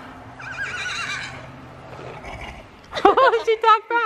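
A horse whinnies loudly and nearby in a series of quavering neighs near the end, after a stretch of quieter sound with a person talking.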